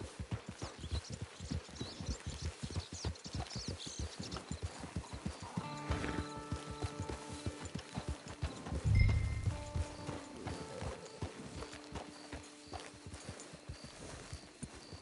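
Hooves clip-clop steadily on the ground in Red Dead Online as a horse walks at an even rhythm, with a brief whinny and a louder thud near the middle, all heard close without talk.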